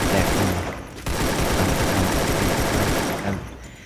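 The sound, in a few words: gunfire in the video game Free Fire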